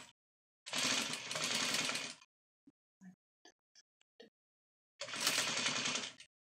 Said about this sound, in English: Now I'm going to go back a little bit on here where I sewed and actually start again. And still back stitch.